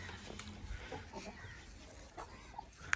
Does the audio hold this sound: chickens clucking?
yes